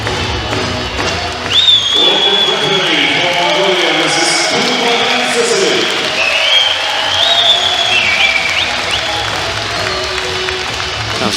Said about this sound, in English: That was a big cheer for the referee